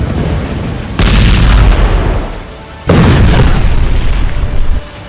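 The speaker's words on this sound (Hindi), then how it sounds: "हर मिनट इजरायल के रॉकेट हमास के किसी न किसी अड्डे को मिट्टी में मिला रहे हैं।" Rocket strikes and explosions in Gaza during the Israel-Hamas war: two loud, heavy booms, each with a long rumbling tail, heard close and alone with no voices.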